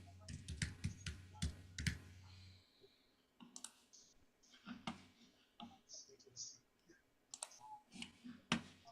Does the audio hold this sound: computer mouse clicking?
yes